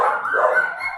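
A dog barks outside, a steady run of yips and barks filling the whole second at fairly close range, with no talk over it.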